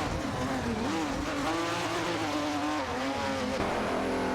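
Race cars including a Chevrolet Camaro and a Plymouth Barracuda Hemi in an AI racing video game, engines whining and shifting pitch as they jostle on track, a continuous dense roar with no voices.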